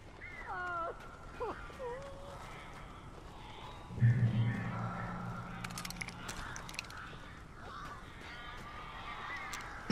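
Harsh crow-like cawing and honking calls from birds in the video game Alan Wake, rising in wavering cries early on, then a busier, noisier stretch with voices talking over the game sounds.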